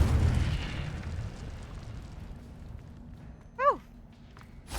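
A wizard video game's Incendio fire spell bursts with a loud whooshing rumble that fades into a quieter hiss, then a brief rising magical chime rings out near the end.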